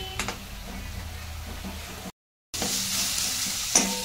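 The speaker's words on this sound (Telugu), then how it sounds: "మెంతం కూరని ప్యాన్లో వేసి కొంచెం పచ్చివాసన పోయే వరకు పెడతాను" Fenugreek leaves fry in a pan with a steady close sizzle and stirring scrapes, broken by a brief total silence before the sizzling resumes more brightly.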